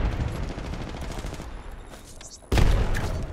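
Gunfire in the video game Apex Legends, rapid dense automatic bursts that ease off and then surge back loud and close in a sudden fresh volley.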